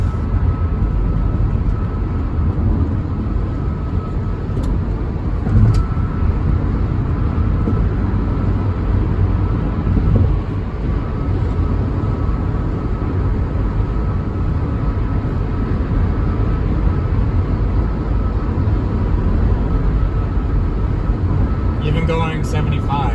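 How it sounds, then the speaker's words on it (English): Inside a 2008 Toyota Prius cruising at 75 mph, a steady low rumble of wind and road noise fills the cabin continuously and evenly, with no one talking over it. "Probably just hear the wind. Road noise is not that loud, really."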